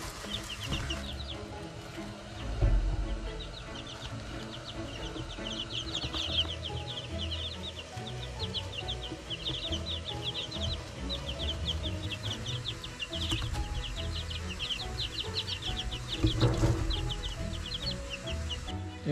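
Young chicks, among them a future rooster, keep up a busy stream of high, rapid peeping and soft clucking close by, with occasional thumps and rustles in the background.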